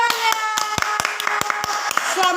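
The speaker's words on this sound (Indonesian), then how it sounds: "Beri tepuk tangannya." A few hands clapping for a guest on a school podcast: a short run of separate, sharp claps at an uneven pace, close by, over a sustained tonal voice or background sound.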